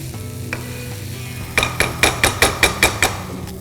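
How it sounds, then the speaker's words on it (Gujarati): Mung dal and spices are stirred with ghee in a pan while the filling for Marwari kachori cooks. After a quiet start, about seven quick, even scraping and clinking strokes of a spoon against the pan sound close by over a soft sizzle. "આ બધા મસાલાને આપણે પાછું એકવાર હલાવી લઈશું."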